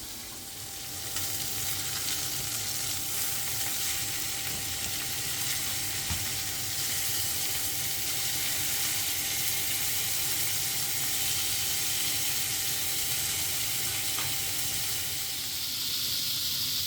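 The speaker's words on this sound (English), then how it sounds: "I'm going to turn these steaks over, do them on the other side for a couple of minutes" Rump steaks frying in a pan after being turned over, giving a steady, fairly soft sizzling hiss that runs unbroken for the whole stretch without speech.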